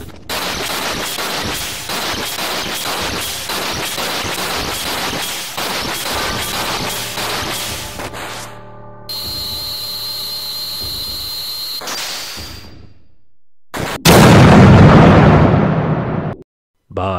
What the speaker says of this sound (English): The only option we get to pick is Omnislash, and after the little segment plays out, that's the end of L'Oreal McSulkypants.